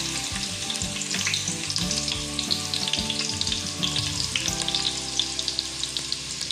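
Chopped onion sizzles in hot oil for a village-style crab curry. The frying is a steady, close, crackling hiss that carries on without a break, with a low hum underneath and no talking.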